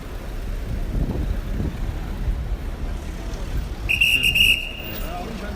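A shrill whistle blast rises out of a noisy outdoor protest crowd and passing traffic in Toulon, France, lasting about a second before fading back into the din.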